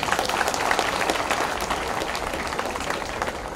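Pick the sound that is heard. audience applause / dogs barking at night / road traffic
audience applause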